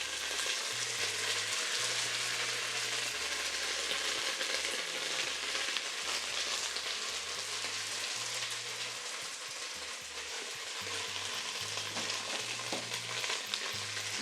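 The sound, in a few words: garlic paste sizzling and splattering in hot oil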